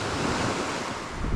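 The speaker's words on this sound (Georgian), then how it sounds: "მინდა გითხრათ რომ კარგი ქარი ამოვარდა" Strong wind sweeps over the Black Sea coast as waves break, a steady, dense roar with rushing surf and wind buffeting the microphone, loud and close throughout this brief stretch.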